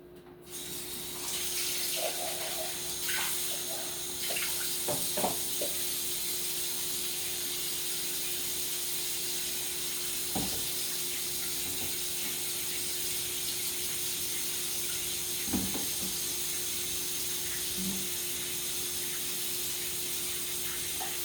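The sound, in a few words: boiled tortellini pasta being strained, water pouring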